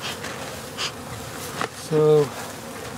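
Honeybees buzz around a hive during early spring feeding with pollen patties, a steady close drone with a louder buzz passing near the microphone, while a person speaks briefly.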